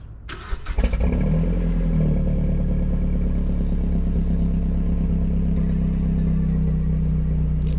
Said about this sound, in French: Tu peux gentiment démarrer la voiture.